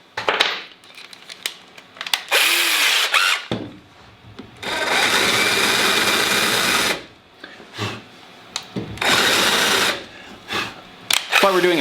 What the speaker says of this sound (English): Let's countersink them real quick.